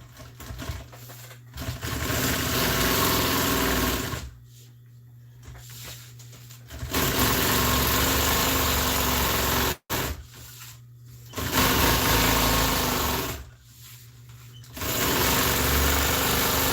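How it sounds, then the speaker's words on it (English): A sewing machine stitches two pieces of fabric together in loud, sustained bursts of whirring, stopping and restarting several times with short quiet gaps between runs, close by and free of speech. "I'm going to sew these two pieces together."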